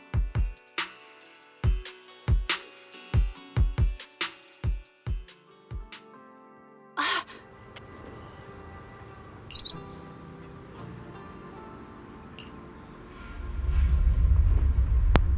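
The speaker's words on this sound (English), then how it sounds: "Bird!" In the game ZZZ, a bird gives a series of sharp, evenly spaced chirps, loud and close, followed by a quieter ambient stretch with a faint call and a low rumble building at the end.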